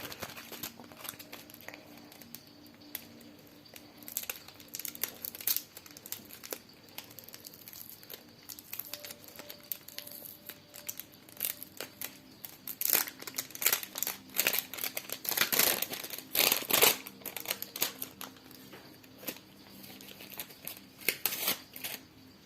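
Crinkly parchment paper rustling and crumpling close by, with sharp bursts of tearing and crackling as a parchment packet is opened, no talking.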